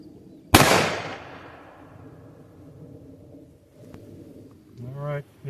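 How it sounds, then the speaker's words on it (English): One loud, close gunshot from a 357 Magnum Charter Arms Bulldog revolver with a 6-inch barrel, firing 150 grain jacketed soft point ammunition outdoors; a sharp crack that rings off and decays over a couple of seconds, then brief faint voices. "next up, 357 Magnum, 150 grain jacketed soft point out of a Charter Arms Bulldog"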